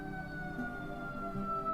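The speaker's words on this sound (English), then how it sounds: "Now there's fire trucks, ambulances, and police cars." Emergency sirens from fire trucks, ambulances and police cars, steady tonal wails heard faint and distant, sustained and overlapping through the whole moment.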